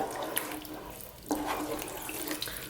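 Cold water from a tap runs into a pot of chicken curry, a soft steady stream with a brief change in the flow midway, fairly quiet and without talk.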